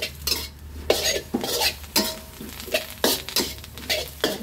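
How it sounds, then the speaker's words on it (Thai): A spatula scrapes and knocks rhythmically against a pan while Gymnema leaves are stir fried with egg, light soy sauce and oyster sauce, with repeated clanking strokes over a soft background sizzle. "แล้วก็ทำการผัดคลุกเคล้าให้เข้ากันได้เลยค่ะ"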